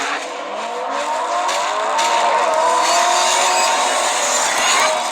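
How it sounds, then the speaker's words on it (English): Race car engines roar and whine loudly, pitches sweeping up and down as cars rev and pass, with a dense noisy crowd-like background throughout. "Rev up your engines!"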